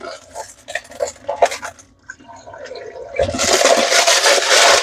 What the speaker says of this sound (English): rinse my strainer. Give this a little extra rinse.